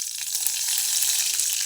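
Mustard seeds sizzle in hot oil in a kadhai for a ridge gourd and dal curry, a steady close, bright crackling hiss that runs evenly without talk.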